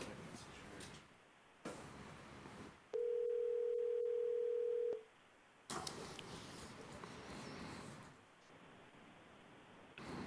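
An incoming phone call at a county commissioners meeting gives a steady electronic line tone lasting about two seconds, between stretches of room noise and faint speech.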